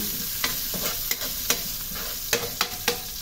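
Onion and chili sizzling in a hot pan, a dense continuous frying hiss broken by sharp crackles and pops every half second or so, close and loud with no talking.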